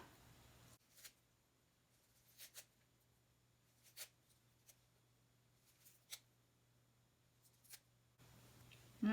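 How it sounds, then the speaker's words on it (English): A knife cuts fresh cilantro in a quiet kitchen, making a handful of short, crisp cuts spaced irregularly with near silence between them. "I'm going to use some of this cilantro, and I'm going to cut this up"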